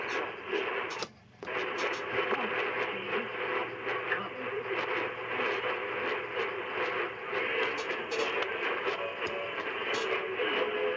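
Shortwave radio station reception on a receiver, a steady wash of static and hiss with a faint broadcast signal underneath, continuous and fairly loud with a brief dip near the start.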